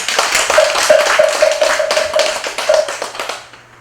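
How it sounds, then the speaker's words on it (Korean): An audience claps for the dean at a Buddhist university entrance ceremony, a steady patter of hands lasting a few seconds before fading out, with a faint sustained tone running beneath it. "박수 부탁드리겠습니다."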